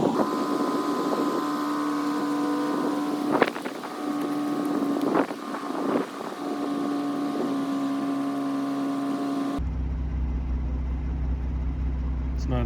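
A Kia Stinger GT2 idles steadily after a remote start, a low continuous hum with a few sharp clicks, then the sound shifts abruptly near the end.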